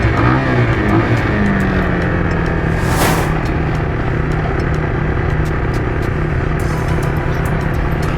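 A motorcycle engine runs loud and close during a riding class, holding a steady roar with a rising then settling pitch early on and a brief whooshing swell midway.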